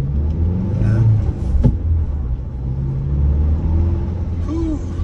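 A 2022 Ford Bronco Badlands engine revs and accelerates with a deep, steady rumble throughout, a brief mechanical clunk near the middle, and faint talk mixed in.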